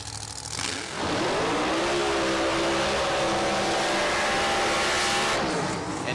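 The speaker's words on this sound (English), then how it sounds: "And now you see why our neighbors hate us. Because of loud blower cars like Dan Myers." A loud supercharged blower drag racing car at a drag strip event roars close by, its engine holding a steady, sustained blast for several seconds before easing off at the end.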